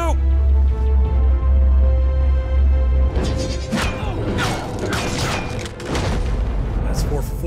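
Heavy thuds and crashing impacts of a brawl in Batman: The Enemy Within, a low rumbling boom first, then a flurry of close blows and smashes, with voices talking over the fight.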